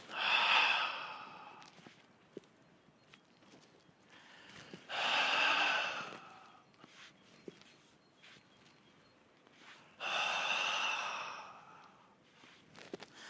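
Slow, audible breaths during a Pilates exercise, three long airy exhalation-like swells spaced several seconds apart, close and fairly quiet, with soft rustles and faint clicks between them.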